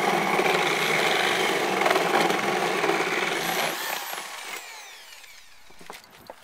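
A power drill bores a hole through an exterior house wall, a close grinding whir that holds steady for about four seconds, then winds down and fades into quiet near the end.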